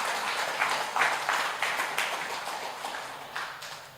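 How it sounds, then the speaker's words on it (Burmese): An audience at a gathering claps hands: a steady patter of applause, slightly distant, with a few rhythmic louder claps, fading gradually over a few seconds. "ကဲလက်ခုပ်တီးပေးမယ်လက်ခုပ်တီးမယ်"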